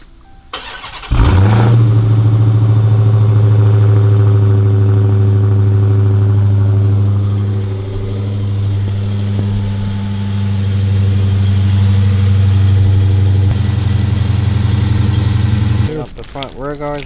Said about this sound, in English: So now we have to start up the car and turn the wheel so we can get to it.